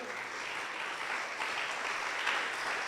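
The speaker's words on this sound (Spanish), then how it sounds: "Dele ese aplauso al Señor." A church congregation at a Sunday service claps in a continuous, even wash of applause, moderately distant and unbroken with no voices over it.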